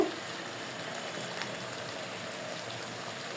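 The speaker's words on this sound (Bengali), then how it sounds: "ভালোভাবে পারফেক্টভাবে কষানোর জন্য গরম পানি দিয়ে দেব" Hot water poured into a pot of Kashmiri-style beef braising with spices and poppy seed paste, a steady, close, unbroken rush of liquid that lasts the whole moment, with no talking.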